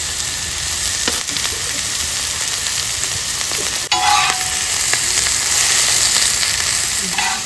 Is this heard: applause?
no